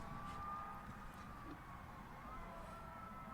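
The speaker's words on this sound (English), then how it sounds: "Sirens are popping off." Faint emergency sirens wail outside, rising and falling over a low steady background hum.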